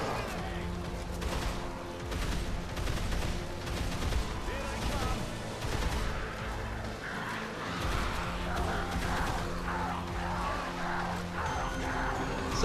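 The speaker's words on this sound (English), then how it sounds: "I'm just gonna keep shooting this one because he looks scary." Gunfire from the zombie video game Dead Island Riptide, with dense, continuous bursts of shots over a busy soundtrack that holds steady at a loud level for the whole stretch.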